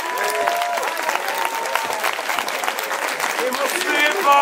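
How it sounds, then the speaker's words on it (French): An audience at an eloquence contest breaks into loud, continuous applause, a dense sustained clatter of clapping hands with faint voices mixed in. "ce serait de leur donner un tonnerre d'applaudissements"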